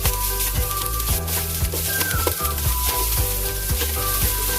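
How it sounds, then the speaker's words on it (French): Chopped onion frying in three to four tablespoons of hot olive oil for a spinach and mushroom sauce, a loud, continuous close sizzle broken by regular rhythmic scrapes and taps of a spoon in the pan. "nous allons chauffer 3 à 4 cuillères à soupe d'huile d'olive et on va y plonger en fait l'oignon qu'on a découpé"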